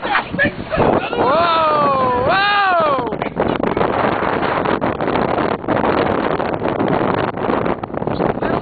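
Strong wind roars and buffets steadily throughout on a boat deck while cod fishing, with a loud whoop-like voice early on over the gusts.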